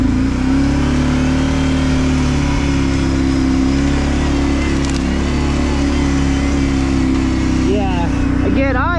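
Kawasaki Brute Force 650 V-twin ATV engine pulling in low gear on a trail, a steady loud mid-pitched drone running throughout, with a person's voice rising briefly near the end.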